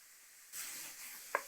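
Spinach for palak sizzles in a frying pan, a soft hiss that swells as the greens are tossed, ending with a sharp clink of utensil on pan.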